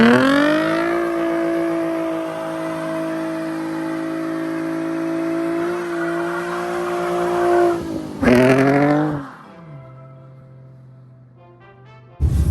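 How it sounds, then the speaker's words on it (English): A Nissan 350Z holds a loud sustained high-revving engine drone during a burnout, then a sharp rev spike with tire noise before dropping to a low idle hum, close and powerful. "ripped some fat burnouts"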